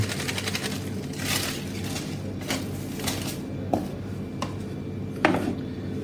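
Kitchen scissors snip through a plastic milk packet, giving a few sharp close cuts and crisp crinkles over a low steady kitchen hum.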